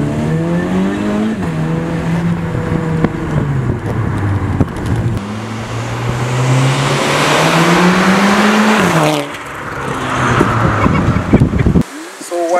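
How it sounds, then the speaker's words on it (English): A turbocharged Volkswagen Golf R accelerates hard through the gears, the engine note climbing and dropping with each shift, loud and close, with people talking over it. "The moment you step on it, it will boost."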